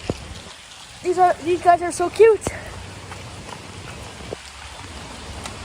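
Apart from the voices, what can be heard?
pouring rain at a petting zoo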